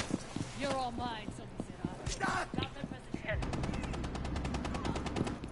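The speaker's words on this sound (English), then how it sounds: "Where am I getting shot from?" Rapid gunfire in a first-person shooter video game, sharp repeated shots and bursts crackling through the mix under excited player talk, with a steady rattling stretch toward the end.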